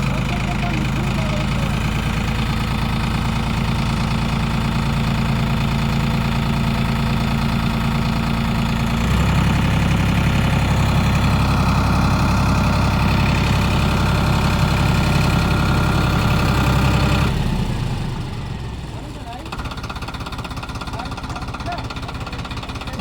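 A John Deere tractor stuck in a field runs hard under load, its heavy diesel engine droning and knocking steadily, rising in intensity midway before easing back toward idle.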